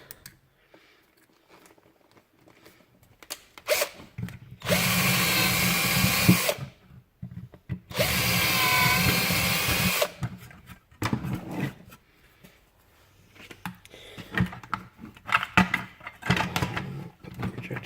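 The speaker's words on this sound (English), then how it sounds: "And then put in some bigger drill bits." An electric drill fitted with bigger bits bores holes during a Koito Corolla LED headlight retrofit on a 2006 Suzuki GS500F motorcycle, with two loud sustained bursts of motor whine separated by a short pause amid quieter clicks and handling noises.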